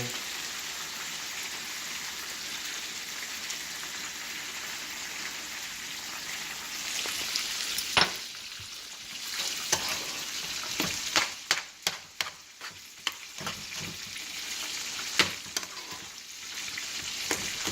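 Milk poured into a hot frying pan for cheesy mashed potatoes sets off a steady, close sizzle, joined midway by clattering stir strokes and scrapes of a utensil against the pan.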